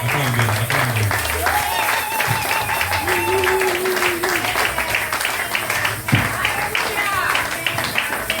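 A church congregation at a prayer service claps in sustained, dense applause that fills the room, with voices and some tonal sound mixed in throughout.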